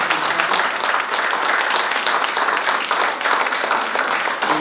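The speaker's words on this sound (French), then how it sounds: "Je pense qu'on peut applaudir très chaleureusement." An audience at an academic discussion applauds warmly after speakers finish, steady dense clapping at full strength with no voices over it.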